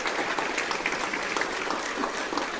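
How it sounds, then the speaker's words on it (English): A crowd at a city's state-of-the-city address claps for local schoolchildren, a dense, even patter of applause running throughout. "So let's just give them all a round of applause right now"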